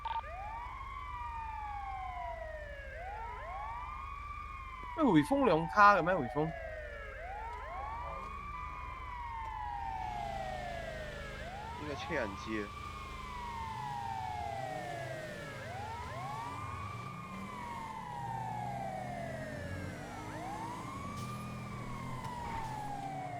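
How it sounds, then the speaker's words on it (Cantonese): A vehicle siren wails in repeated rising and falling sweeps, loud and steady through the whole stretch, with brief bursts of voices and a short clatter early on. "響個警笛同埋個 siren 啦"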